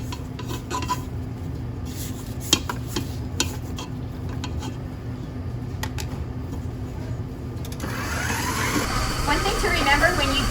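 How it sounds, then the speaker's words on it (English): A spatula scrapes the sides of a mixing bowl of dough, giving soft rubbing strokes and light ticking knocks, then a louder, rougher scraping toward the end; a voice can be heard faintly underneath. "I'm going to stop and I'm going to scrape."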